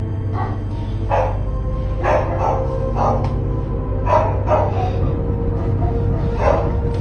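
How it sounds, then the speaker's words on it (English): Family dogs bark excitedly at night, a rapid series of loud, close woofs and yips repeating over a steady low background hum. "One night, the family dogs start going nuts"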